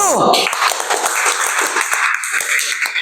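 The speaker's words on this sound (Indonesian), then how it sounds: "tepuk tangan buat kelompok 1" Applause in a church-themed class session as the first group finishes its presentation. It opens with a brief voice, then dense steady clapping fills the rest at even loudness.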